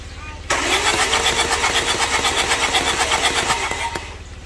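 A 2015 Chevrolet Captiva diesel is cranked briefly and fires up, settling into a loud, steady, slightly rough idle nearby in a workshop during injector cleaning.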